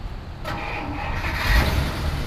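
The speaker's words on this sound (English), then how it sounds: "Very quiet engine." A 1952 Pontiac Catalina two-door hardtop idling, a low, soft, steady engine rumble that stays quiet and even throughout.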